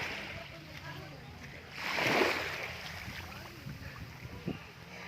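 Water sloshes and splashes around a small boat in Batangas, with a rushing swell in the middle and people talking nearby.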